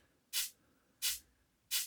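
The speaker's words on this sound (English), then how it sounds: "which is just adding this white noise fizz to accentuate the tail as well" White-noise fizz from a Serum synth layered on an electronic snare tail comes as three short, bright hissing bursts, evenly spaced and isolated, each fading quickly into near silence.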